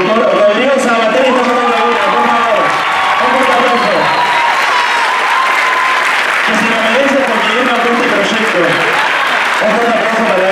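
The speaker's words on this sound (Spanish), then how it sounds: "Quiero, por favor, un fuerte aplauso para el productor Rodrigo Sabater." Loud, continuous applause fills a hall at a choreographic dance show for its producer, with a voice speaking over the crowd through much of it.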